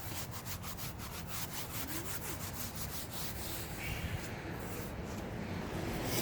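A soft bristle brush scrubs rhythmically across an engine during detailing, a close, steady rasping with repeated strokes and no talking.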